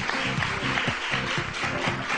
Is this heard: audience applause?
yes